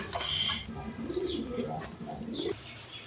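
Pigeons at a market coo close by in a few low, wavering calls with light chirps, over a soft background murmur.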